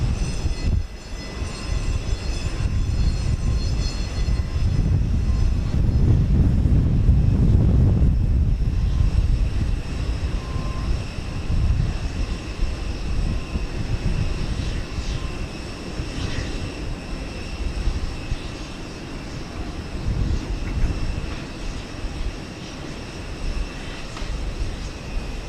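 A United Boeing 787-9 airliner at Houston Intercontinental airport gives a loud, steady jet engine roar that swells early, then settles into a continuous rumble and whine heard from a distance.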